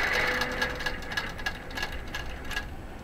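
A QBOT quilting robot stitching a large meander design runs with a steady mechanical whir and a fast, faint rhythmic ticking from the needle, continuous throughout.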